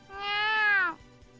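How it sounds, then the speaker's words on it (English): A single clear cat meow in the video game Gakuen Heaven 2, a close, rising-then-falling harmonic cry lasting just under a second, alone and without talk. "Arata-san, you're carrying a cat, and with Motto wrapped around your neck too"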